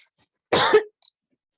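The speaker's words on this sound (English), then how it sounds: "Clear my throat for a second." A single short, rough throat clearing, loud and close, followed by a faint click.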